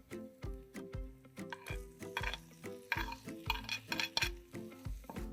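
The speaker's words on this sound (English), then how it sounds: "It's time to add my prawns." Prawns go into a hot pan of spiced mixture and are stirred, with rhythmic scraping and clinks of a utensil against the pan over a faint sizzle, close and fairly quiet.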